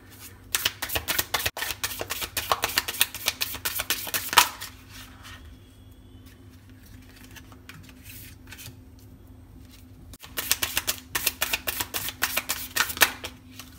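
Tarot cards shuffled and drawn in a pick-a-card reading: two bursts of quick, dense riffling and snapping cards, separated by a few seconds of quieter handling, close and alone without talk.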